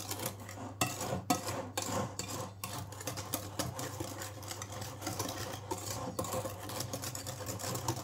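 Flour and baking powder mixed into apple cake batter, a steady scraping and tapping of a utensil against a bowl at close range, running continuously over a low constant hum.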